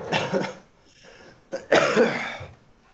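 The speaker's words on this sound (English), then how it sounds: "No coughing in class." Two close coughs in a classroom, a short rough one at the start and a louder harsher one a moment later, with quiet between them.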